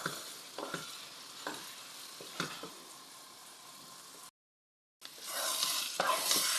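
Potato halwa roasting in ghee, stirred with a spoon in a pan: steady sizzle with repeated scraping strokes, a brief silent gap, then a louder, brighter frying hiss.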